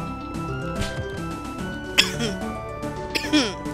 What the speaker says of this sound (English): Choking on my own spit.